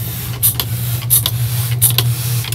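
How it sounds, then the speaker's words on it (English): A spray bottle mists the top of seed-sowing soil in a few short, hissing bursts, near and fairly loud over a steady low hum. "And then spraying the top, make sure that's moist as well."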